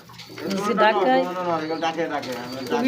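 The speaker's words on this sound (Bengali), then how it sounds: "প্রত্যেকটা কবুতর কিন্তু এরকম ডাকে না এটা ভিন্ন ধরনের একটা ডাক" A deep, rolling pigeon coo repeats in close succession, loud and near, with a few faint background noises.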